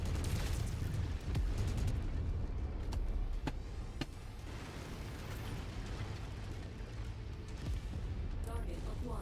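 Enemy turrets firing in the mech combat game Mechwarrior 5: Mercenaries, a dense run of sharp mechanical bursts and booming impacts over a constant heavy rumble, with several crisp cracks standing out through the middle.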